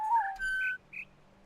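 A bird in The Witness video game gives three short whistled chirps, clear and close: a quick falling note, a longer steady whistle, then a brief higher tweet over near silence.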